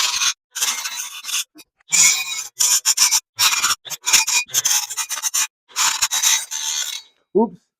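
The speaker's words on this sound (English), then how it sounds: "I think I'll just use the grinder." An angle grinder strips paint from a metal bike frame during a budget cargo bike build, with repeated harsh, close scraping bursts separated by short pauses.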